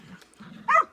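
A small black dog with very high energy lets out one sharp bark near the end, after a low grumble, close and fairly loud.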